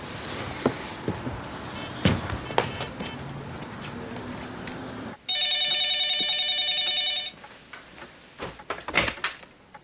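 After some shuffling and knocking in a room, a cell phone rings with a loud, steady electronic trill for about two seconds, followed by more handling noises.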